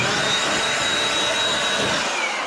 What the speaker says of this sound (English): let me get the blower real quick. I like to blow it off right before I do it